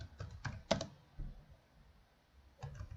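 Quick bursts of clicking keystrokes on a computer keyboard, close and quiet, come in short clusters separated by pauses, with a final flurry near the end.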